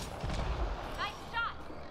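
Gunshots ring out in Mass Effect Andromeda, a few muffled booms and rumbling bursts under game noise, fairly faint and close together, with a short electronic warble partway through.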